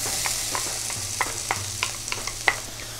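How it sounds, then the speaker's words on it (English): Onions fry in a pan, a continuous sizzle broken by sharp spitting pops and crackles at irregular intervals, close and clear with no voices. "So we'll go ahead and start by cooking the onions."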